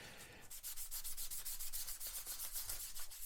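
A sanding stick rubs rapidly back and forth over a photo-etched metal cab roof for a scale model truck, a close, even run of quick scratchy strokes with no talk.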